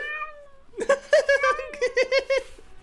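A cartoonish cat meow from an iPad soundboard app plays as a string of short, bright, pitched meows in quick rhythm, preceded by a sustained tonal note, close and clear with no talking.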